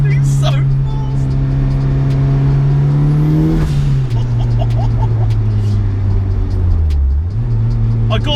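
A turbocharged Mazda MX5 making about 300 bhp accelerates hard from inside the cabin. Its loud engine note climbs and drops through gear changes, then surges again after a brief dip near the end.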